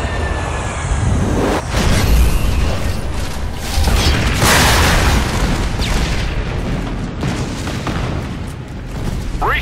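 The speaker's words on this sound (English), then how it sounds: "Airstrike incoming." Airstrike explosions in the Xbox 360 shooter Section 8: Prejudice during a Swarm and Conquest match: a series of loud, heavy booms over several seconds, with a big blast near two seconds and another near four and a half.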